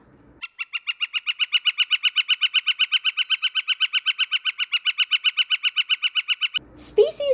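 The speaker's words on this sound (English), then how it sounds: "the beautiful northern flicker is a woodpecker" A northern flicker, a woodpecker, gives a long, rapid series of loud, evenly spaced wik-wik-wik calls, close and clear, stopping abruptly after about six seconds.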